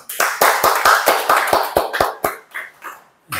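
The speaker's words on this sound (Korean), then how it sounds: "박수 한번 합시다." A church congregation claps in rhythm, about a dozen sharp, evenly spaced claps that loosen and fade into a few scattered final claps.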